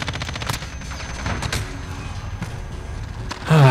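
Gunfire in Call of Duty: Modern Warfare, with rapid shots and bursts crackling across the clip and a heavier blast rising near the end, under no talk.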